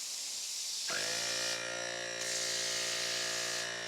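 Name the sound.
IK foamer spraying through precision foam nozzle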